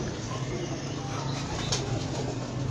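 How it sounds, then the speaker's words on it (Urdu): Pigeons on a rooftop loft in Bakkar Mandi, soft low cooing blended into a continuous dense bird ambience with a faint rustle, close and moderately loud, no clear speech. "بہت امیزنگ کبوتر ہے جی, بڑا پسند آیا ماشاء اللہ."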